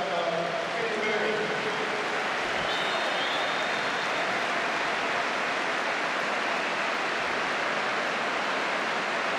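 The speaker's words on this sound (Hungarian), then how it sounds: "Ramirez is nagy tapsot kap természetesen." Stadium crowd applauding a substituted player at a Videoton FC vs Ferencvárosi TC football match, a broad continuous roar of distant clapping and crowd noise, with a commentator talking over it.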